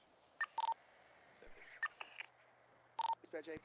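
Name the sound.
phone keypad dialing tones in GTA V roleplay video game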